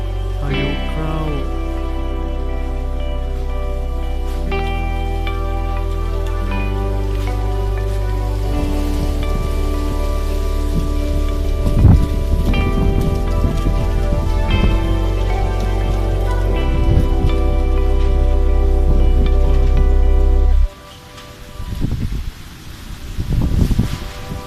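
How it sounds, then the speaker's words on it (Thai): A morning storm in Laos brings heavy rain in a steady, close hiss under sustained tonal music whose chords shift. The sound drops sharply near the end, leaving lighter rain and scattered drips. "พายุเข้า"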